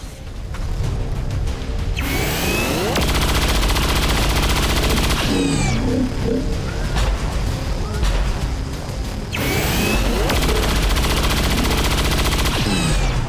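Bursts of automatic gunfire from a chain shot in the XCOM 2 game, loud and dense, rattling continuously for several seconds with mechanical clanks and whooshing swept effects between volleys.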